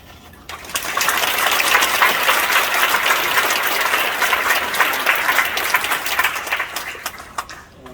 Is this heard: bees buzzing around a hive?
no